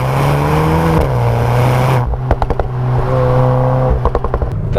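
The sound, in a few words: 2022 VW T-Roc R with Akrapovic exhaust, pops and bangs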